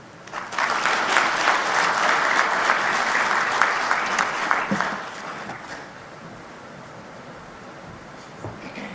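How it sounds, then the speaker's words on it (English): A large audience applauds the Honorable Minister at the launch of the African Peer Review Mechanism. The clapping is loud and dense for about five seconds, then drops off to a quiet room hum. "Let's give the Honorable Minister a big round of applause"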